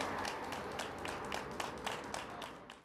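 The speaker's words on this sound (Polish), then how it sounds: "W symboliczny sposób o godzinie 13 cała Polska podziękowała im oklaskami" Applause for health workers, a broad, fairly faint wash of many hands clapping outdoors with scattered sharper claps standing out, steady for a few seconds and trailing off.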